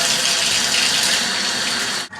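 A bathtub faucet with a newly replaced cartridge pours hot water in a loud, steady, splashing rush close up, cutting off abruptly just before the end.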